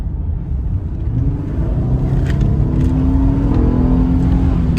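An Infiniti Q50 car cruising with the sunroof open, a steady engine and road rumble that swells slightly as it accelerates, with faint music in the cabin.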